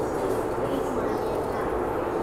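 A subway train arriving at Admiralty Station platform in Hong Kong rolls along with a low, rough roar and faint rattling, heard at moderate volume in an enclosed space.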